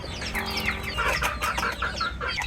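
Chicks peeping in a brooder on a farm, a dense run of high, thin, overlapping chirps that carries on steadily throughout.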